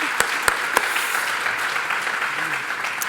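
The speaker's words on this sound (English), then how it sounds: "We can clap for that." An audience applauds at a university address, a dense, steady wash of clapping from a crowd filling the short moment, with a few sharper claps standing out early.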